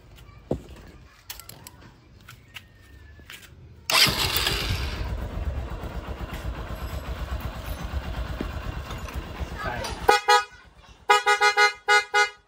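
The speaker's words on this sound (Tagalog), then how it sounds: "Pia horn yung kinabit natin dito" A newly installed PIAA car horn sounds in a run of short, loud, closely spaced toots near the end, after a steady engine rumble from the car it is fitted to.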